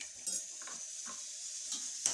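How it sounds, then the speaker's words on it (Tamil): Mustard seeds, asafoetida and shallots sizzle in hot oil with a steady bright crackle, as a spoon stirs against the pan in a few soft knocks. "தாளிப்பதற்கு கடுகு, காயப்பொடி, அதுக்கப்புறம் கொஞ்சம் சின்ன வெங்காயம்."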